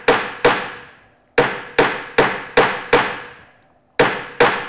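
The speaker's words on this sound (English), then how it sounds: "we're going to take small bites, overlapping hammer blows" Metal bracelet blank being domed on a Fretz stake with small overlapping hammer blows: nine sharp, ringing strikes in an uneven rhythm, each decaying quickly, loud and close with no talk.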